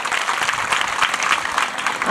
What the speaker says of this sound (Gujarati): આપણા આમંત્રણને માન આપીને જે મહેમાનો પધાર્યા છે એમનું જોરદાર તાળીઓથી સ્વાગત થાય